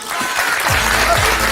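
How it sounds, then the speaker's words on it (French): A studio audience on the reality show Secret Story breaks into brief, dense applause that stays steady and fairly loud throughout, with faint voices mixed in. "Applaudissements pour Sofiane et sa bande très originale"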